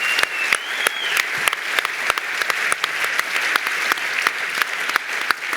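An audience at the 2015 Vaudois sports merit awards applauds an athlete: steady, moderately close clapping with individual sharp claps standing out in a fairly regular rhythm, no talking over it.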